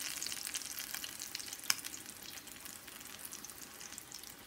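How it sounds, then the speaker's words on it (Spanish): Fish taquitos (pescadillas) frying in hot oil give a steady, close crackling sizzle throughout, with one sharp click partway through and no voices. "Bueno, voy a continuar aquí friendo mis pescadillas, que no se me vayan a quemar."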